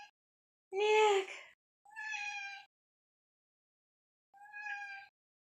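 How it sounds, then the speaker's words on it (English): A cat meows three times, close and distinct: one long, loud call, then two shorter, softer meows, separated by silence. "He's a cat."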